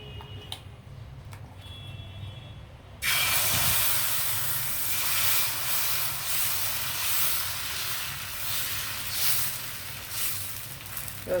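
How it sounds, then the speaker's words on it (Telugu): Sago dosa batter hits a hot greased pan and bursts into a loud, steady hiss that starts abruptly after a quiet moment and keeps sizzling evenly. "దోశ వేసేద్దాం."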